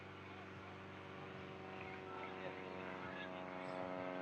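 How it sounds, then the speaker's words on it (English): Spitfire fighter planes drone overhead beside a cricket ground in Prague, a steady far-off propeller hum that holds evenly while a commentator talks over it. "You may be able to hear the Spitfires flying overhead."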